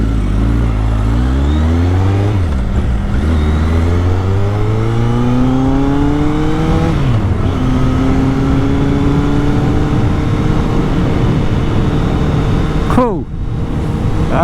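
A Kawasaki Z800 motorcycle engine runs loud and close, revving up and down in several rising and falling sweeps over a steady idle, with one sharp dip near the end.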